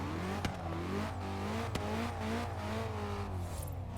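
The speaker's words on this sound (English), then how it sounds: "I'm gonna rev it for you guys." A car engine in Forza Horizon 3 revs up and down through several rising and falling sweeps, loud and close, with a couple of sharp clicks and no talking.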